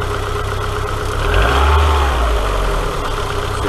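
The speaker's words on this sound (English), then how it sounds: "rev the engine a bit," A car engine with modern fuel injection, wired to a DIY timing light, idles close by and then revs up in a single smooth rise near the middle of the clip before dropping back to a steady idle, with no talking.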